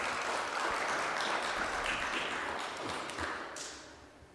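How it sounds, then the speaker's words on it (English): Applause from an audience at a tourism debate competition launch in the Montego Bay Convention Center, a dense, steady patter of many clapping hands that holds strong and then gradually fades. "Please give them a round of applause."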